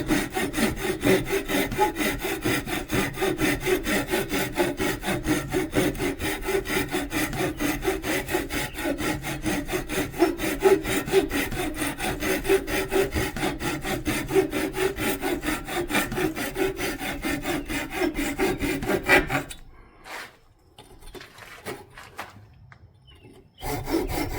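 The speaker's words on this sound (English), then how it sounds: "We just use a cut-off saw to cut it off the lathe" A cut-off saw cuts a turned wooden piece off a wood lathe, giving a rapid, steady rasping grind that is close and loud for about twenty seconds, then stops into quieter scraping and near silence.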